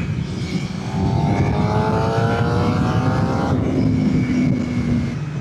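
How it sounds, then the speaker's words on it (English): A Suzuki GSX-R600 sport bike engine while riding, a steady close drone with a rising whine under heavy wind rush, held loud and even throughout without speech. "Oh yeah, guys, we're on a sport bike."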